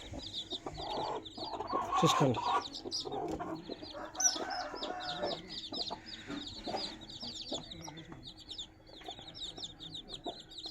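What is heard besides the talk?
one-week-old chicks of parrot-beak rooster breed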